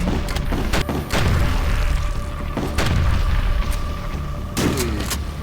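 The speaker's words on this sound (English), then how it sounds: "it's so cool that I blow myself up with it and die" A Hussite hand cannon rocket explodes in the video game HROT, a series of loud heavy booms and thuds layered over a dense, constant game soundscape.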